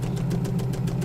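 A sewing machine runs steadily while stitching a 3/8 inch seam on an apron dress bodice, giving a continuous low motor hum with a faint rhythmic ticking pulse. It sounds close and moderately loud, with no talk.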